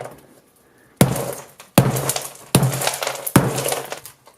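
An iPhone 6S set inside a hardened expanding sponge ball is smashed repeatedly, four loud sharp impacts spaced under a second apart, each with a cracking, clattering tail, close up and without talk.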